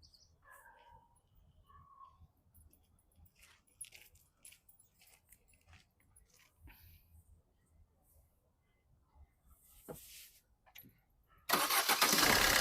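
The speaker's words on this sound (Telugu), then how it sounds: "సింగిల్ సెల్ఫ్ బండి స్టార్ట్ అవుతుంది సార్" A 2017 Maruti Suzuki Ciaz VDI+ SHVS diesel car catches on a single crank near the end and settles into a loud, close running sound, after a long quiet stretch with faint voices and small background noises.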